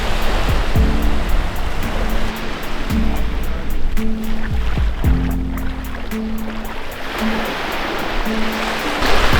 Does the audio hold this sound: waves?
yes